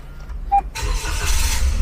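A 2021 Toyota Raize GR Sport Turbo started with its push button: a short electronic beep, a brief pause, then the engine cranks and catches into a rising, steady idle, close and clear.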